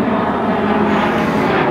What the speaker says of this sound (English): I guess the planes are in the southerly route coming in today